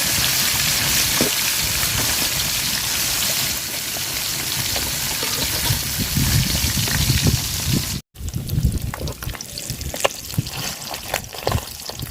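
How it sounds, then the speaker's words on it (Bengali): Fish frying in hot oil in a cooking pot, a loud continuous crackling sizzle that carries on without speech, briefly cutting out near the end before resuming more sparsely. "পাতিল গরম হয়ে গেছে তেল দিয়ে দিলাম মাছ ভাজার জন্য"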